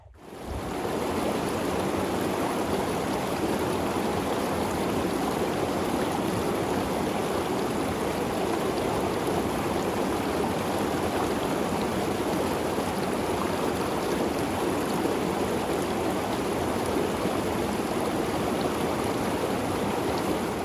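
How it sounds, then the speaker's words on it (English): A deep creek flows through a mountain meadow near Skelton Lake on the Duck Pass Trail in Mammoth Lakes, California. The water rushes in a constant, even wash that stays steady and unbroken from start to finish. "It's kind of a meadow with a creek."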